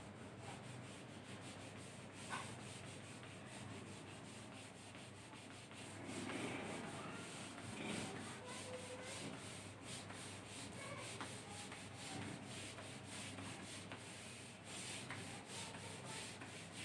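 Steady dry rubbing or sanding scrape runs close and continuous for the whole stretch, with a few slightly louder strokes midway, no voices present.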